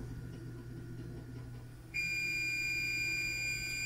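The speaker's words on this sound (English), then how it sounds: "So I'm setting the timer here for a half hour." Kitchen timer set for a half hour while a quiche bakes: a steady, loud high-pitched tone starts about halfway through and holds to the end over a low constant hum.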